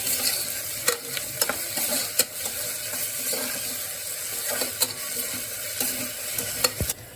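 Green masala paste sautéing in a pan gives a steady close sizzle with a few sharp scrapes and clinks of stirring scattered through.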